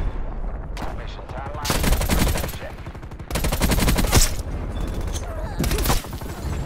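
Automatic rifle bursts in Black Ops Cold War, likely a QBZ-83, rattling off in several long rapid strings with short gaps between them, loud and close, with a player talking in between.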